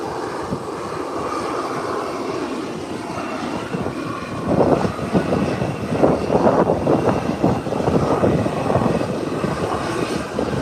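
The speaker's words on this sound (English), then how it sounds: "One of the Cessna is starting at the end there to make an intra-island run." A small Cessna plane's engine starts up at the far end of an airfield, a broad steady drone that swells and roughens partway through, distant and continuous with no talk.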